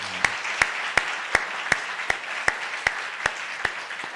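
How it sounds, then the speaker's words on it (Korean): A church congregation claps in slow, evenly spaced unison beats, about eleven sharp claps in four seconds, filling a large room with light reverberation. "우리 박수 한번 할까요?"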